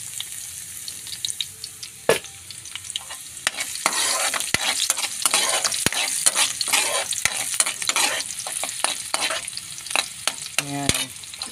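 Chicken with garlic and onion fries in a pan for afritada, giving a loud, crackling sizzle full of pops and spits. A utensil clatters and scrapes repeatedly against the pan while the food is stirred, and there is no talking.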